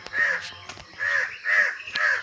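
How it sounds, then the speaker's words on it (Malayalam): Two adult crows caw repeatedly nearby, a series of harsh, nasal calls in quick succession with short pauses between them, clear and close against a quiet background. "2 കാക്കകളും എത്തിയിട്ടുണ്ട്"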